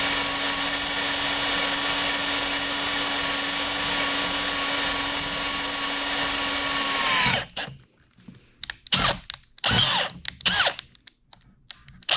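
A power drill with a worn-out chuck whines steadily at high speed for several seconds, then stops; a few scattered clunks and handling noises follow up close.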